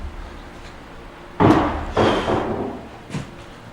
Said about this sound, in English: there's a loud sound of something wooden slamming or falling down